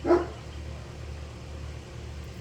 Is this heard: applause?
no